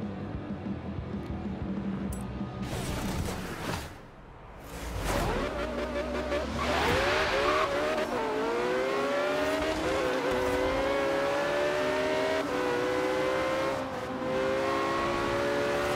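A race car engine in a Forza championship race revs and accelerates through rising gear pulls, with a tire squeal and a shift dip along the way, loud and continuous with no talk.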